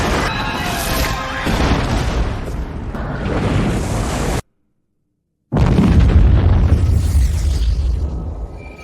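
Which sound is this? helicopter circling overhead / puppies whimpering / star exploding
star exploding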